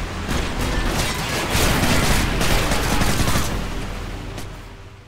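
Dense gunfire in the Call of Duty Modern Warfare 3 video game, a continuous loud fusillade of overlapping automatic weapons and booms that swells and then tapers slightly toward the end.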